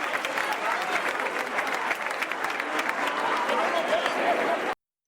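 Canned applause effect slipped into a Catalan talk show, a steady dense wash of clapping and crowd cheer that runs loud and unbroken for nearly five seconds, then cuts off abruptly.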